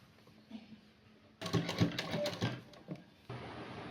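A sewing machine runs a short, rapid burst of stitching along a blouse edge, starting abruptly after quiet fabric handling, then stops and starts again near the end, close and moderately loud.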